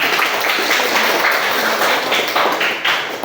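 A high school class clapping after a group presentation, heard as a loud, close, sustained patter of many hands clapping in a classroom.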